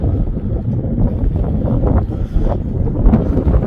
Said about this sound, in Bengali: এখানে প্রচণ্ড হাওয়া চলছে আর খুব ঠান্ডাও লাগছে